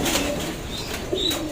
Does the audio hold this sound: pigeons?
yes